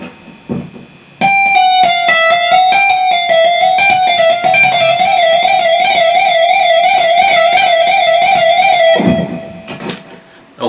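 Distorted electric guitar plays a fluid legato line, starting with a few picked notes and then holding a long sustained tone with wavering vibrato before it cuts off; the sound is clear and close.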